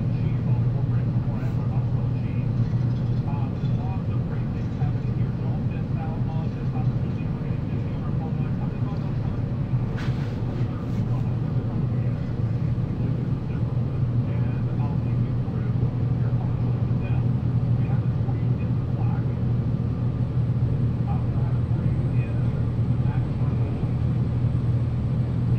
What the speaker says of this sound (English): Or here I shoot it to the right just to show you how far it throws the snow